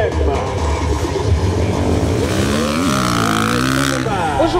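Motocross motorcycles race at the 13th edition of the 4 Hours of Lubumbashi, engines droning and revving loudly with shifting pitch under continuous talk.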